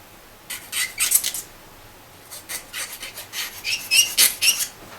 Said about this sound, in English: Do my little bit of filing here.